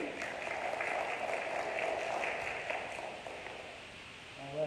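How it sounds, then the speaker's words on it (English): An audience gives applause for the final three spelling bee contestants, a dense patter of clapping that fades over a few seconds before a voice begins speaking. "Let's give a round of applause for our final 3."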